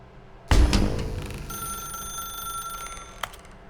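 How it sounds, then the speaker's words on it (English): Telephone ringing in The Stanley Parable video game, a sudden loud bell ring that decays into a sustained electronic tone, with a second brief ring near the end. "Why did you unplug the phone?"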